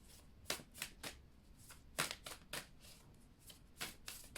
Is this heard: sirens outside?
no